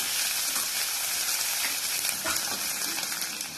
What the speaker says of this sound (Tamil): 5-6 சின்ன வெங்காயம் நல்லா கட் பண்ணி சேர்த்திக்கோங்க. உங்களுக்கு பெரிய வெங்காயம் வேணும்னாலும் சேர்த்திக்கலாம். நல்லா வதக்கிக்கலாம்.